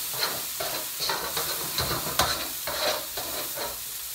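Onions stirred and fried in a pan coated with dried spices, a steady sizzle broken by repeated scraping strokes of a spoon at a fairly even rhythm, close and fairly loud with no talk.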